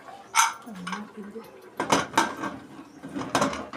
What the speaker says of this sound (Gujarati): કુકરનું ઢાંકણું બંધ કરી દઈશું